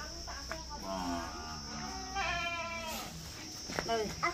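A voice imitates a baby goat's bleat with a series of wavering, drawn-out cries of moderate loudness against a steady background hum.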